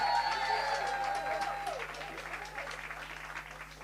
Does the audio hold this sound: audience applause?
yes